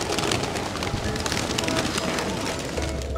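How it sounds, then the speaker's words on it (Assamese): Pigeons coo in a flock at a city roost with many nesting boxes, soft calls largely buried in dense, loud outdoor noise that runs continuously. "ইয়াত বহুত খোপা পাৰ আছে"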